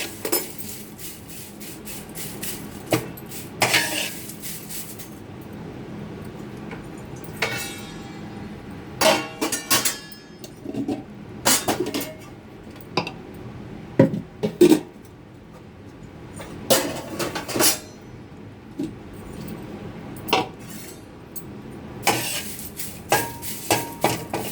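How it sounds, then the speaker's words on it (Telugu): Curry leaves and tamarind dry roasting in a pan for karivepaku podi, heard as intermittent clinks and scrapes of a utensil against the metal pan, with sharp taps at irregular intervals over a low background hiss. "కరివేపాకు లైట్గా ఫ్రై చేస్తున్నాం"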